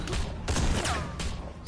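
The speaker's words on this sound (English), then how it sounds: "Okay, now she's getting shot." Gunfire from The Walking Dead video game, with Michonne coming under fire: a few dense bursts of shots crack loudly close by over a rumbling background.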